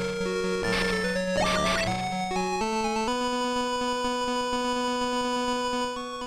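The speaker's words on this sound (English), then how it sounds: "that music track never stops playing, looping over and over" Looping chiptune music from the Strider video game on the Sega Master System: a steady bass line under simple square-wave melody notes that step between sustained pitches, with a brief burst of busier sound effects early on.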